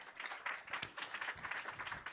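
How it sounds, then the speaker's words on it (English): An audience at an online education event applauds its speakers, with dense, continuous clapping from many hands that rises and falls steadily throughout. "if we can give a round of applause to our speakers"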